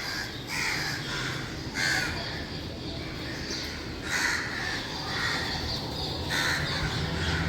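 Crows caw in repeated harsh bursts, several calls overlapping in an irregular rhythm at moderate distance over a low outdoor background.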